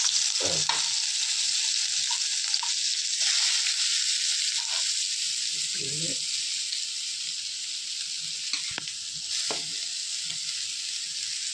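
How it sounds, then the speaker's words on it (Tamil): Chopped onions sizzle in hot oil with a steady hiss, broken by a few soft stirring scrapes. "கடாய் வச்சு அதில் எண்ணெய் ஊற்றிருக்கேங்க. இப்போ நம்ம நறுக்கி வச்ச வெங்காயத்தை போட்டுக்கிறேன்."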